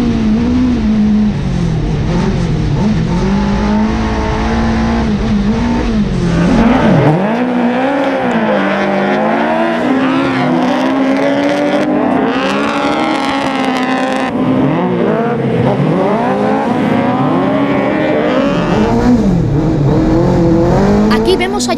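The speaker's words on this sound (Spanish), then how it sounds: "Marc Genest sigue disfrutando de la conducción sobre hielo." Race cars drifting on an ice circuit, engines droning and revving with shifting pitch as they slide, loud and continuous under a commentator's talk.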